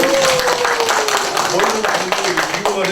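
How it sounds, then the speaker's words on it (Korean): Applause at a Korean village community talk show comes as a dense, steady patter of clapping hands, with speech and a sustained voice running over it. "박수"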